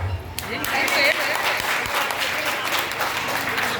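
An audience applauding at a family-meet skit performance: dense, sustained clapping from a crowd in a hall, fairly loud and continuous, with voices mixed in underneath.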